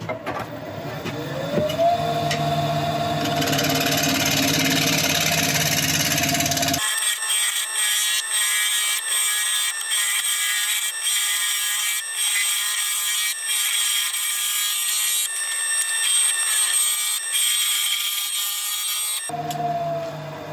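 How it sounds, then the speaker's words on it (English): A wooden bowl spins on a lathe at about 1100 RPM while a tool works the wood, giving a steady, continuous scraping whir with a motor hum, close and loud with no talking. "It's a nicely balanced bowl this, so we can start turning at about 1100 RPM."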